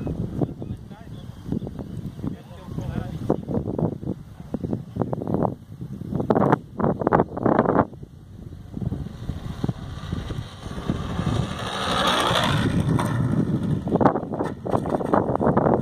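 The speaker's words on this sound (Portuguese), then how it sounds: "Muito vento hoje, Muito vento" Strong wind gusts buffet the microphone at a model aircraft flying field, a continuous loud rumbling roar with surging bursts, heard under people talking nearby.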